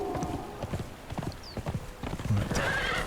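A horse gallops and neighs in the video game Conan Exiles, with rhythmic hoofbeats running throughout and a whinny near the end, amid game ambience.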